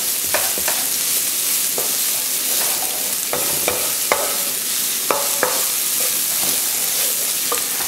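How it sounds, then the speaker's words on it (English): Onions and peppers fry over high heat in a pan, giving a steady loud sizzle broken by repeated scraping stirs, with no talking. "Get a little color on the onions and peppers."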